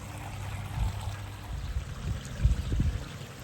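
A small waterfall spills into an outdoor turtle pond with a steady, faint trickling and pouring wash and low gurgles that run throughout.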